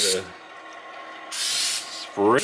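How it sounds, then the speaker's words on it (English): Two short bursts of CRC aerosol spray cleaner hissing, one at the start and a longer one midway, with brief voice sounds at the edges. "Good old CRC. Let's just spray"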